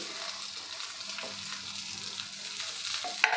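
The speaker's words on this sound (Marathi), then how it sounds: "हलक्या हाताने आपल्याला हे मिक्स करायचे आहे परतून घ्यायचं आहे" Jowar flour mutke being stirred and sautéed in a pan, a steady soft sizzle with scraping of the spoon throughout and a sharper clatter near the end, no voices.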